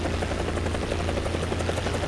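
A helicopter engine and rotor in War Thunder drone loudly and steadily with a fast, rhythmic thumping chop, close and unbroken.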